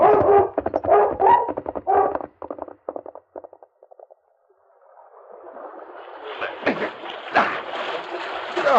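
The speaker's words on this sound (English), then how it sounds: "He could hear the dog on the opposite shore" A dog barks and whimpers close by in quick bursts in an old radio drama, then fades out, followed by splashing water and a rushing stream.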